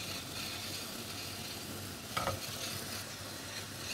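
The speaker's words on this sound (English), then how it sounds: "Continue stirring." A homemade shampoo mixture with added lemon and orange juice is stirred steadily in a bowl, a soft continuous swishing texture with one slightly louder scrape midway and no voices.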